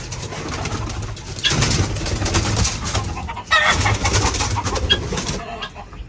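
Pigeons coo steadily inside a shed, soft throaty calls repeating over a constant rustling background, with no voices.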